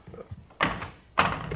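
A locked door is tried and shoved twice, each attempt a solid close thunk with a short rattle, separated by a brief pause and preceded by faint low murmuring.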